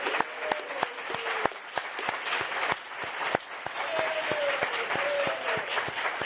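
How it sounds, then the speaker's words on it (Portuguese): A press-conference audience applauds for a world-champion footballer's birthday, a sustained bed of clapping from a room of people, with sharp clicks cutting through it at irregular intervals. "queria pedir aqui um aplauso para o Zinho, fazendo aniversário hoje, tetracampeão mundial"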